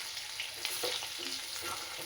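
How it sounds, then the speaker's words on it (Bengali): Boiled potatoes frying in a generous amount of hot oil give a steady close sizzle with light stirring scrapes over about two seconds, no voices. "আলুটা একটুখানি জাস্ট তেলে একটু ভাজা করে নেবো"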